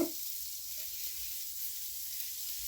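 Shrimp sizzling in a cast iron pan: a steady, soft, hissing fry that holds evenly throughout, fairly faint and close, with no talking.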